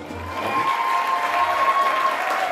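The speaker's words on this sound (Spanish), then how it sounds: "¡Que se escuchen los aplausos!" Party guests applaud together at a family celebration, a steady wash of clapping held at full level for the whole stretch with a few light cheers mixed in.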